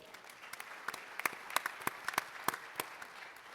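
Sparse, fairly faint applause from a small audience at a sports tourism conference, individual sharp claps scattered irregularly rather than a dense wash.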